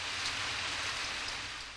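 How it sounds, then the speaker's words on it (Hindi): Steady cartoon rain falls from a Ninja Hattori scene: a dense, even hiss of drops held at a constant moderate level for under two seconds, alone with no voices, easing slightly at the end. "राइमा देखो, बारिश हो रही है।"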